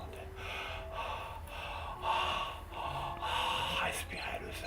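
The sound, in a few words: storyteller imitating a monkey catching its breath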